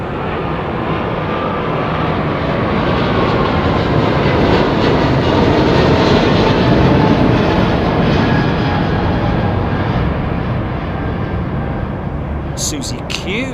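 Jet engines of a KC-10 aircraft at Heathrow Airport give a loud, sustained roar that swells and then eases slightly, with voices talking over it.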